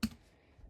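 A single sharp click of a computer keyboard key, close and crisp, then a faint second tap a moment later.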